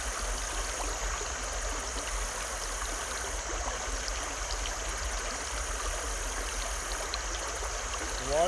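River rapids rush into a small eddy, producing a steady, broad wash of flowing water at moderate volume with no voices.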